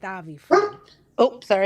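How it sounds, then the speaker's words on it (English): A dog barks loudly in short, sharp bursts close by, several barks in quick succession, with someone speaking between them. "that's my dog. Okay, I'm gonna mute because he's loud."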